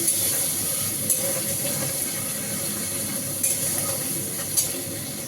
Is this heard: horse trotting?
no